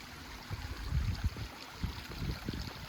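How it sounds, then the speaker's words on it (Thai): Clear water tumbles over rocks in a mountain waterfall stream, a close, low rushing with uneven gurgling splashes and no voices. "บ่มีปลามีแต่น้ำไหลใส่จริงๆ"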